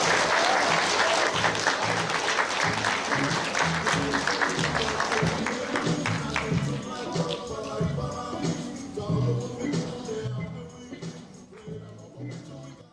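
Lively applause fills a school prizegiving, loud and dense at first, then thinning into scattered claps and shuffling as it fades toward the end.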